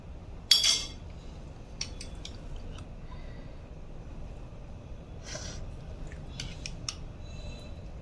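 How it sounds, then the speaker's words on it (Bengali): A spoon mixes about two tablespoons of mayonnaise in a bowl for a chicken mayo sandwich roll, giving faint, scattered clinks and soft scrapes against the bowl with quiet gaps between them and no talking. "এখানে প্রায় দুই টেবিল চামচ পরিমাণ মেয়নিজ আমি মিক্স করে নিচ্ছি"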